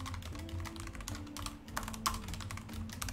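Steady rapid typing on a computer keyboard while writing bulleted notes in a note-taking app, with continuous close, clattering keystrokes and no talk.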